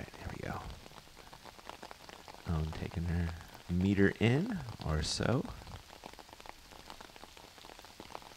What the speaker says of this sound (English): And the rain is coming down.